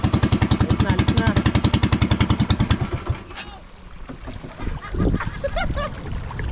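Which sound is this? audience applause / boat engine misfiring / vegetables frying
boat engine misfiring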